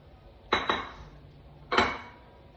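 A metal pot lid clatters down over a simmering fish curry. Two quick clanks come close together, then a third clank follows a moment later, each ringing briefly against a quiet kitchen background.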